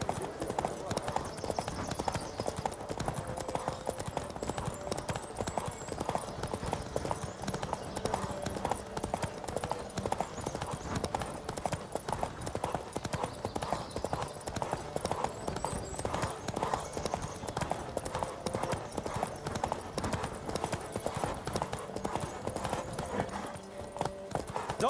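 Galloping horse hooves in a race in The Witcher 3 video game, a steady fast clip-clop rhythm running throughout at moderate level, mixed with game ambience and occasional character voices.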